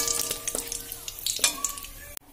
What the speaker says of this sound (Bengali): এবার এই তেলের মধ্যে আমি গোটা জিরে দেব ফোড়ন, আর দেব দুটো তেজপাতা।